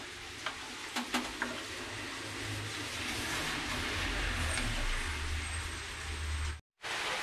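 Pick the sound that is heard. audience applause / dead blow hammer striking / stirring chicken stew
stirring chicken stew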